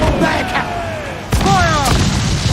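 Ship cannons firing during a naval battle in Assassin's Creed Black Flag, a loud boom partway through over a constant roar of battle, with crew voices shouting throughout.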